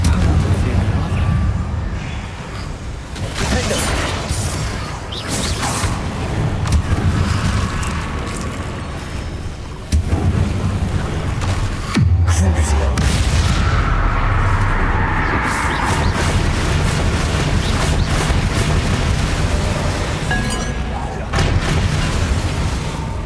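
Bombarda spell blasts during Hogwarts Legacy combat on PC, loud booming explosions and bursts layered with game effects and mechanical clatter, plus one heavy low impact midway.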